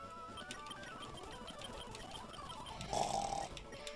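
Snoring from a Pokémon Radical Red randomizer playthrough, a steady chiptune-style rumble running throughout, with a brighter, louder burst near the end.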